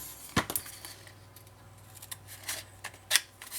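Scissors snipping paper for a scrapbooking album, a few separate crisp cuts spaced over a few seconds, close and fairly quiet.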